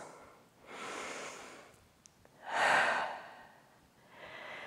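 Slow, deep breathing during a home contemporary dance class: three long, airy breaths, with the middle one the loudest and closest. The breaths are separated by quiet pauses and stand alone with no talking.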